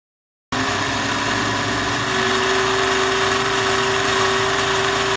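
A kitchen blender grinds granulated sugar into homemade powdered sugar, a steady, loud motor whir with a constant hum that runs without a break after a short silent start.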